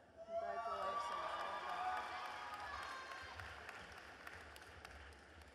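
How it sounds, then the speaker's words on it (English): A crowd cheers and claps at a distance at a university convocation, a steady wash of voices and applause that gradually eases off. "Great to hear your colleagues cheering you guys on down there."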